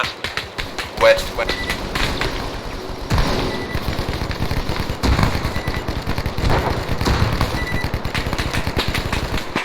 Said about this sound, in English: Contact. Gunfire northwest.